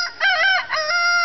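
A farm chicken gives a short, loud, close call with a crowing, drawn-out quality, a single clear vocalization with no talking.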